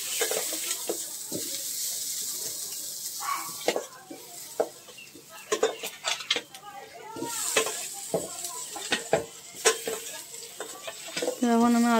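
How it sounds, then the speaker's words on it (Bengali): Potatoes fry in a wok with a soft, steady sizzle, broken by sharp scraping and clanking stirs at an irregular pace, with a voice speaking now and then. "এখন আমি আলু দিয়ে দিয়েছি কড়াইতে।"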